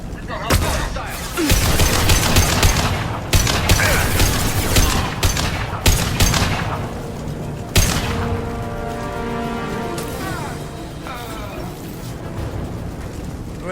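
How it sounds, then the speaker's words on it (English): Dense gunfire from Blue Suns mercenaries and Vorcha in the video game Mass Effect 2, rapid overlapping bursts and bangs at close range, loud and continuous before easing into a ringing mechanical tail. "The Blue Suns and Vorcha shooting anything that moves."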